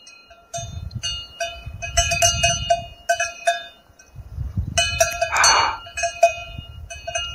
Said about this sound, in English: You bell ringing heifer.